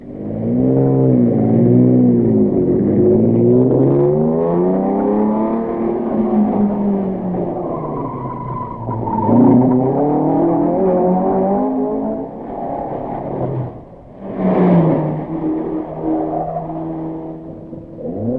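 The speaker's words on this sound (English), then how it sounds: "Datsun 102 of the Van Bergens passes through towards the stage and is quickly followed by another Datsun of Janssen and Dieck" Rally Datsun cars from the 1971 Rally de Portugal passing on the way to a special stage. Loud engines rev and change gear as they approach, then fade, with a second car following close behind.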